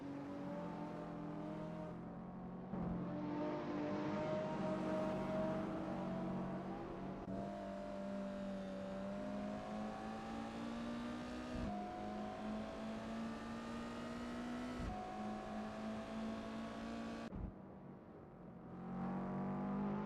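A race car on a qualifying lap in the racing video game SimSpeed Sport Cup: a loud, close engine note climbs steadily through the gears, cutting sharply at each shift before rising again, alone throughout.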